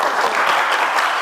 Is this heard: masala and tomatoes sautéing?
no